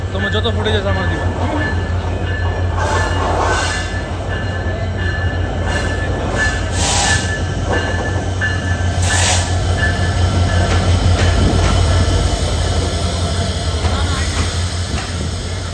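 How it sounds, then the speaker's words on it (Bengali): Train pulling into Airport railway station in Dhaka, with a steady heavy rumble, low engine drone and intermittent bursts of hiss and wheel squeal over the platform while people wait. "আমরা ওয়েট করছি ট্রেনের জন্য"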